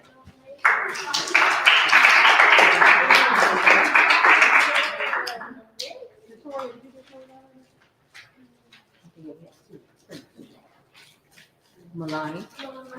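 An audience bursts into loud, dense applause for a named scholar at a live-streamed walking event, the clapping lasting several seconds before fading into scattered voices and talk.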